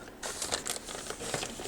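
A plastic bag holding a moss propagation setup crinkles softly for a moment in an indoor apartment room, with a dense, faint rustle and small crackles.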